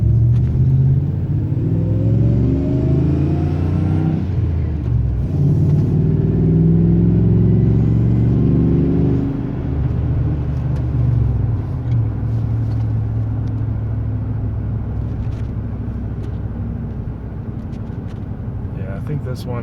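Revving of a 2003 Ram Hemi V8 fitted with a Taylor Helix throttle body spacer, a steady close engine rumble that rises and falls with throttle blips while a person talks over it.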